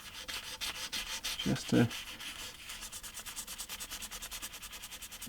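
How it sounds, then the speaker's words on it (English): A Gibson SG Special guitar's finish is hand-sanded to remove scratches, with quiet, steady back-and-forth rubbing strokes in an even rhythm. A brief low voice is heard partway through. "Why don't we just give it a little bit of a sand in places"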